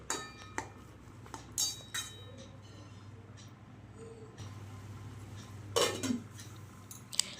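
Red amaranth greens with coconut stirred in a pan, with scattered spatula clinks and scrapes against metal, a few louder scraping bursts, and a low background hum.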